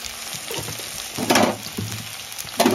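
Tomatoes and green chillies frying in a pan of hot oil, a steady crackling sizzle with a few louder bursts of spitting and occasional stirring scrapes, close and with no talk.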